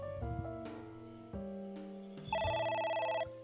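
In the video game AI: The Somnium Files, a telephone rings with a sustained electronic bell tone that shifts pitch and grows louder partway through, heard alone over a layer of game music.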